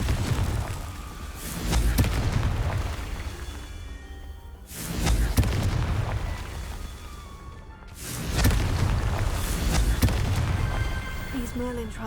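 The Confringo explosive spell in Hogwarts Legacy goes off three times at regular intervals, each a loud booming burst that swells and fades, with a voice talking in between.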